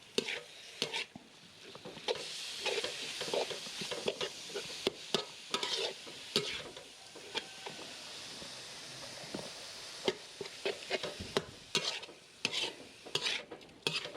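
Bitter melon is stir-fried in a pan, with steady sizzling under frequent sharp scrapes and clinks of a spatula against the metal, close and busy throughout with no speech.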